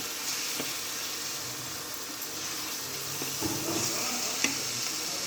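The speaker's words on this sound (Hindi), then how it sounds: "धीरे धीरे मसाला इसके ऊपर डाल के चढ़ा देंगे, थोड़ी देर भूनेंगे।" Masala fries in a pan for chicken nargesi with kofta, a steady close sizzle broken by occasional stirring scrapes and clinks, with no voices.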